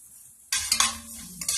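Ginger and garlic hitting warm oil, a sudden close sizzle bursting out after near silence, with stirring clatter and a second flare near the end.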